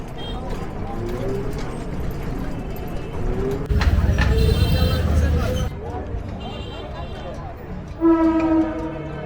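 Train sounds and a horn at a railway station in Kishoreganj, with a loud rumbling passage mid-clip and tonal horn blasts near the end, under ongoing crowd chatter and voices.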